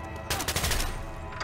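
Rapid bursts of gunfire in the video game Garry's Mod, loud and close, a rattling volley that tails off with a last shot near the end.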